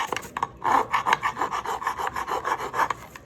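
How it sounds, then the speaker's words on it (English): A hand file chamfers the edge of a Yamaha Warrior motorcycle part in quick, close, rhythmic rasping strokes, about a dozen scrapes in a steady back-and-forth pattern. "Chamfering the inside edge a little bit,"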